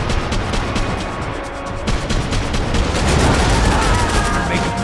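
Gunfire aimed at explosive barrels in the Max Payne 3 video game, loud overlapping bursts of rapid shots and impacts with a sharp burst partway through and a heavier swell of firing toward the end.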